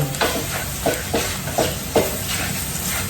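Knorr shrimp bouillon cubes are crushed by hand, each press a short gritty crunch repeating in a steady rhythm over a constant background hiss.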